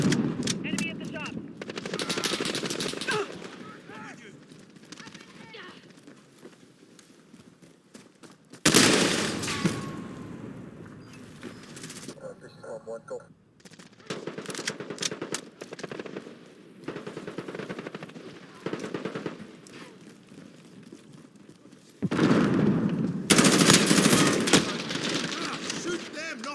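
Bursts of automatic gunfire in Call of Duty: Modern Warfare multiplayer come in several loud volleys separated by quieter stretches, with faint voices calling out in between.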